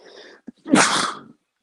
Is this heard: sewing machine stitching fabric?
no